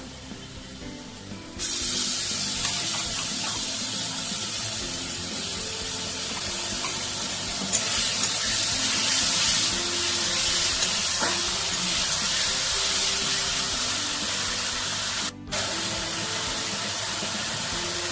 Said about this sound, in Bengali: আমি এবার এর মধ্যে আদা রসুন কাঁচা লঙ্কা টমেটোর পেস্টটা দিয়ে দেবো।